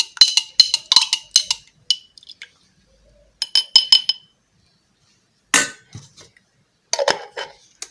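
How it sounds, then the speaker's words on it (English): A homemade aloe vera hair oil gets stirred in a glass container, giving bursts of bright clinking and tapping as a utensil strikes the glass, in several clustered runs separated by short pauses. "stir very well."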